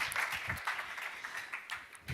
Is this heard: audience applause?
yes